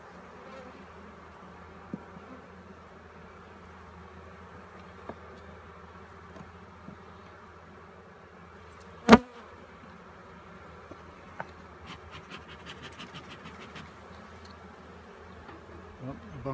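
Honey bees from a hive under inspection, a soft continuous buzzing with scattered clicks and one sharp knock partway through.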